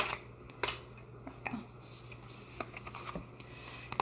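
Tarot cards being shuffled, giving a few soft papery riffles and flicks spread across a quiet room with a low background hum.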